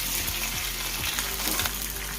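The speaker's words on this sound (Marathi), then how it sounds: "अशा प्रकारे ब्राऊन होईपर्यंत आपल्याला खोबरं तळून घेऊ" Grated coconut, garlic and tomato fry in oil for a Bhogi festival thali, giving a constant close sizzle broken by a few soft scraping stirs, with no talking.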